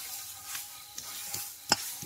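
Puffed rice (khoi) crackles in hot oil, giving a few faint, sparse pops and light stirring scrapes with a quiet sizzle between them.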